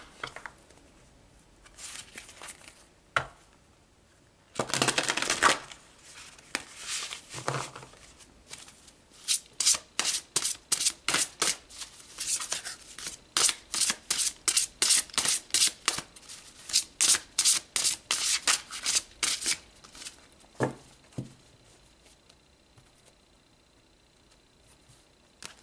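Tarot cards are shuffled in bursts: a few scattered riffles, then a long run of quick, evenly spaced crisp flicks close to the microphone, ending in quieter handling with no talking.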